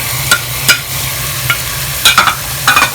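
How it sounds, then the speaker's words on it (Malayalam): Masala-marinated chicken stirred into frying masala in a pressure cooker for Thalassery chicken biryani: a steady sizzle runs throughout, punctuated by several sharp scraping strokes of a spoon against the pot, with no talk. "ഈ ചിക്കൻ ഒന്ന് ഈ കൂട്ടിലേക്ക് നന്നായി യോജിപ്പിച്ചു കൊടുക്കും."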